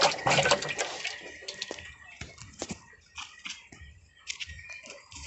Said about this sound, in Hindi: पानी को हिला देना।